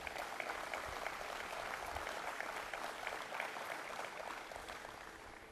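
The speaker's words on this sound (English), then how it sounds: "Let's give her another round of applause." Audience at a press event for New York airport funding gives a round of applause, a steady wash of clapping from many hands, moderately distant and fairly quiet, with no talking over it.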